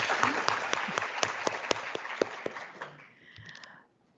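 Audience applause after a talk at a public-sector meeting, a small group clapping with distinct individual claps that thin out and fade to near silence by the end.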